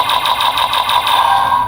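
Electronic sound effect from a Kamen Rider Zetz DX Breakam Zetzer toy pistol: a loud, buzzing, pulsing tone with a fast rhythmic flutter, steady throughout and heard alone.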